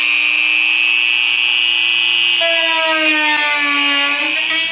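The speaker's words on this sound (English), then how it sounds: "I'm gonna have to use the Dremel drill and go ahead and just drill a little slot" A high, steady whine of a small Dremel rotary tool drilling a slot runs throughout, its pitch shifting lower partway as it bites into material.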